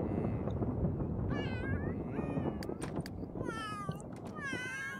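A cat meows several times in The Sims, the harmonic mewls rising over a steady, busy game background with music and ambience.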